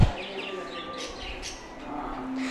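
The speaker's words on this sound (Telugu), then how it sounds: "కార్నియర్స్ ఉంటాయి సన్ కార్నియర్ ఉంది" Pet-shop conures, including sun, jenday, green-cheeked and pineapple conures, give a few short, bright chirps over a steady low hum, with a person talking nearby.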